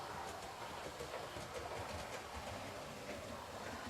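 A model railway train runs along its mainline track, a faint steady rumble with light rhythmic clicking over rail joints and no voices.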